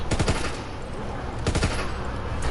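Prop Shredder gun firing in World War 2 Zombies, rapid bursts of automatic fire in two clusters, loud and close over a steady game background.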